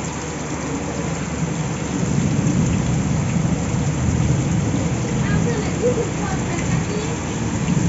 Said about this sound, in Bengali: অনেক বৃষ্টি, টানা 1 ঘন্টা ভরায় বৃষ্টি পড়ছে।